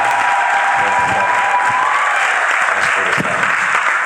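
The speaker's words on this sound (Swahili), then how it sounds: "Naomba usharika mzima tusimame tunapompokea kiongozi wetu na kushangilia." A standing church congregation at Kana parish applauds and cheers to welcome their bishop, a loud, sustained wash of clapping and crowd noise with a few shouted voices rising over it.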